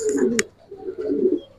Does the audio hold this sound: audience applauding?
no